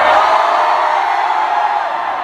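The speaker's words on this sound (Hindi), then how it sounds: "बहरा होने तो चिल्लाओ तुम लोग" A dense live audience at a mall performance shouts and cheers without a break, loud and roaring throughout, with overlapping voices and no single speaker standing out.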